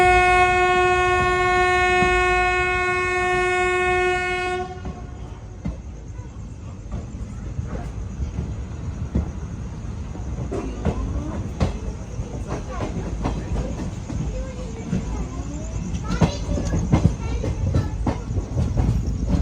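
A Mussoorie Express sleeper train runs toward a railway station, opening with a long, loud horn blast, followed by a steady rumble and rhythmic clatter of wheels on rails.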